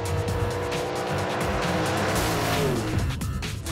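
An all-Mopar drag race car launches at Indy, a loud engine roar with tire squeal rising into a sustained blast that sweeps in pitch near the end, close and without talk.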